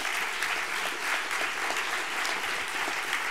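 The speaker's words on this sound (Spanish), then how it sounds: "un aplauso, ¿no?" Audience applause fills the hall at a book award gala, a dense, even patter of many hands clapping, steady and moderately loud for several seconds with no speech.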